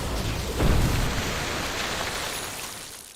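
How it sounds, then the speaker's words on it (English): Rain and a low thunder rumble from a thunderstorm in the video game Dota 2, a steady wash of rainfall with a swelling roll of thunder near the start that fades back into continuous rain. "Told you a storm was coming."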